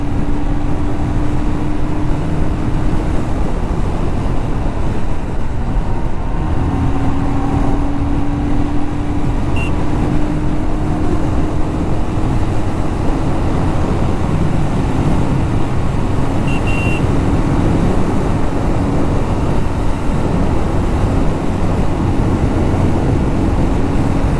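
A Royal Enfield Scram 440 motorcycle engine drones loudly and continuously at full throttle with a rising tone under strong wind rush, no voices.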